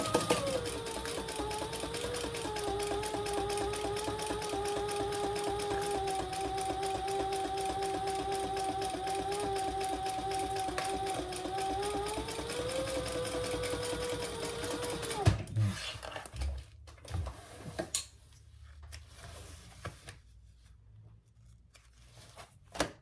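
A sewing machine runs steadily for about fifteen seconds, top stitching a purple crossbody bag, with a whirring motor hum and a change in pitch near the end. It then stops, leaving quiet handling noises.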